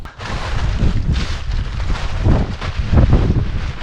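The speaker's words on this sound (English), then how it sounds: "It's so fucking windy today." Strong wind buffeting a microphone, a loud continuous low rumble with gusts swelling and easing, no voices.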